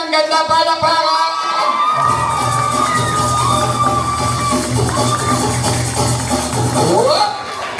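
Loud crowd cheering, whooping and shouting at a Philippine D5 event, a dense sustained roar of many voices that swells and carries through nearly eight seconds, with some higher children's shouts mixed in but no clear clapping.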